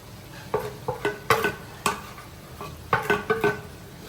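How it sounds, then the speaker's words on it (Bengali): Beef fried in a pan with coriander and chilli powder. A low sizzle runs beneath repeated sharp clacks of a spoon striking and scraping the pan, with uneven strokes. "এখন আমি এগুলো সব এখানে ঢেলে দেব"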